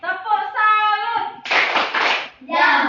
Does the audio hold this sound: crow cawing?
no